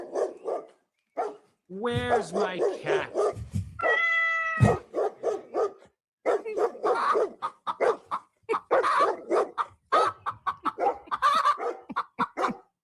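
A short barking dog sound effect, a few sharp harmonic barks in quick succession, plays amid lively podcast talk between two hosts, close and clear.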